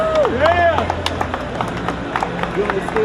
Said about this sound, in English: Please give us a warm applause to Assemblyman Michael Blake